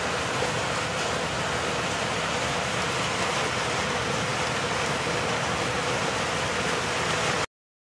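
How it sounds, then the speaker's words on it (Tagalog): Heavy rain pours down in a dense, steady hiss, loud and unbroken, before stopping abruptly at the end. "Sobrang lakas ng ulan"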